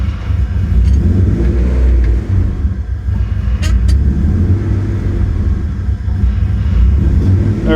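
A car engine idles in a steady, close low rumble with a faint whine on top, unbroken throughout and heard from inside the vehicle, with no talking.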